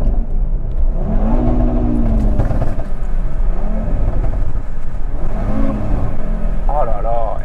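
A 600 hp Audi RS3 engine revs repeatedly, loud and close, in rising and falling pulls over a deep rumble, with excited voices talking over it.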